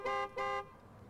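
A car horn at a gas station gives two short, loud honks in quick succession, the second slightly longer, then cuts to quiet background.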